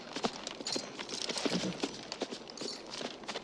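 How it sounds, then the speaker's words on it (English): Horse hooves clip-clop in a snowy scene from the 1985 western film Pale Rider, a brisk, uneven run of close hoofbeats set against a busy, rustling soundtrack. "Gorgeous horse."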